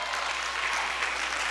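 Applause from an audience at a school board meeting, a dense continuous patter of many hands clapping, fairly loud and steady through the brief moment, with no voices over it.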